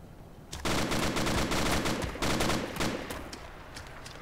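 Gunfire in ARMA 2 at a 1944-themed church base: loud, rapid automatic bursts start sharply, run for a couple of seconds, pause briefly, then resume before fading, with no speech.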